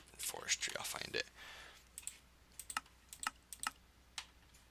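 Typing on a computer keyboard: a quick flurry of close keystrokes with brief speech at the start, then scattered individual key taps and clicks.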